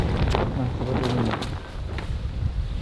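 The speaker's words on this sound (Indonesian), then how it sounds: "Ini by the way berisik banget itu ini suara tendanya" A tent flaps and rattles in strong summer wind, giving close, noisy rustling and buffeting with heavy wind rumble against the microphone.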